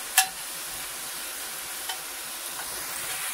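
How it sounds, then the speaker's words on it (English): Onion frying over medium-high heat in a pan, a steady close sizzle opened by a sharp spatula knock, with a few lighter scrapes as it is spread around. "Turn up the heat a tiny bit on that, like medium high. Gonna spread it around here. Get that onion cooking."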